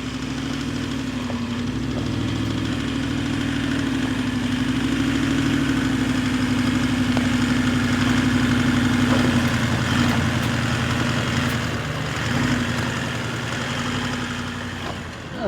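A 4WD with diff lockers engaged crawling in low range over loose rocks, its engine holding a steady close droning hum with slight variations in load throughout, no talking.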